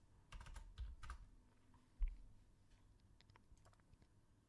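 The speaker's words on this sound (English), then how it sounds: "I'm so bad at typing" Typing on a computer keyboard, heard as a quiet, irregular patter of soft key clicks with a couple of firmer taps and pauses in between, close by in a quiet room.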